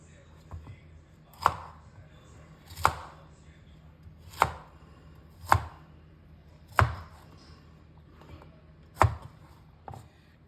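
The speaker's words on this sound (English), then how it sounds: "Now cut the cauliflowers also in similar sizes as you cut the capsicum." A kitchen knife chops cauliflower pieces on a cutting board with about seven sharp, evenly spaced thuds, each a crisp close knock against faint background hum.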